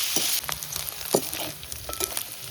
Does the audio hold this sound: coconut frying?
yes